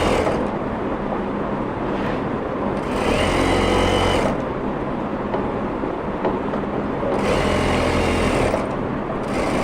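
A sewing machine stitches a trouser outseam in loud, continuous whirring runs that pause and restart, close by with no talk.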